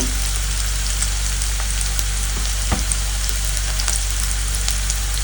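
A vegetable dish frying with turmeric and chilli powder gives off a continuous, dense crackling sizzle with occasional louder pops. A constant low electrical hum runs underneath, and there is no speech.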